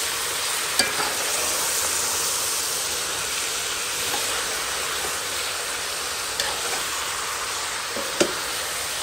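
Cabbage with smoked pork being stirred and sizzling in a pot as a curry, with a steady, dense frying hiss that runs throughout and a few sharper scrapes of the spoon against the pot.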